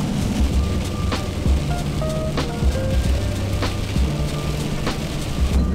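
Rain pattering steadily on a camper van while driving in South America, dense close drumming over a low road rumble, with sharper individual drops ticking through.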